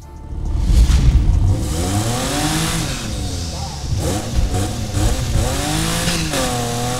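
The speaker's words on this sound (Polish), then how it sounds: "Ten odgłos wydechu to jest dźwięk strzału z tłumika." A roadster in the racing game Need for Speed Heat revs loudly with a rising and falling engine note, broken by short crackling exhaust backfire pops during night racing.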